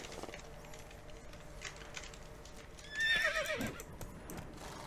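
A horse whinnies briefly in The Witcher 3, a short rising neigh rising midway over steady game ambience and faint hoof clatter.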